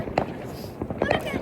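New Year fireworks crack and pop in quick irregular bursts, sharp and fairly close, while people talk over them.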